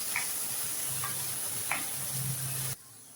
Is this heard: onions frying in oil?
yes